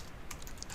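A few quick, soft keystrokes on a computer keyboard while code is being typed, faint and close with no voice over them.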